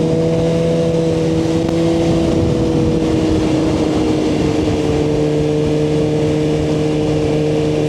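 Suzuki GSX-R1000R motorcycle on a rural back road, its engine holding a loud, steady drone with gradually shifting pitch as it pulls, heavy wind rush throughout and no voices.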